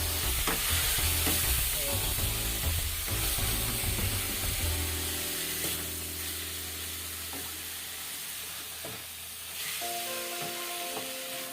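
Pork steak with garlic sizzles loudly in a frying pan while it is stirred, with a steady crackling hiss and occasional scrapes. The frying stays close and continuous throughout.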